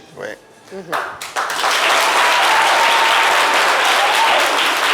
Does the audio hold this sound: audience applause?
yes